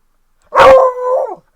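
A single loud dog bark, drawn out into a short whining howl, close up against silence.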